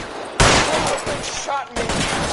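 Gunfire in the 1940s Los Angeles crime game L.A. Noire Remastered: two sharp, loud shot onsets about a second apart, each trailing into a rough, noisy decay.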